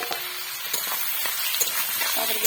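Potatoes dropped into hot oil in a home kitchen pan, giving a steady, moderate sizzle and hiss with small crackling pops throughout, no talking over it.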